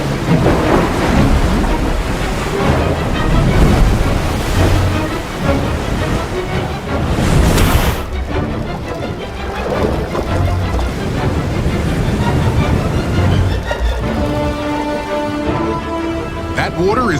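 Floodwater pours in against sealed flood-barrier products during a demonstration, a loud, continuous rush and splash of water that lasts throughout, with talk over it at times.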